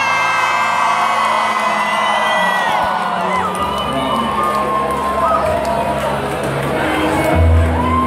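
A large concert crowd at the Rock Werchter festival cheers and whoops loudly and continuously, with scattered shouts and whistles rising above the roar.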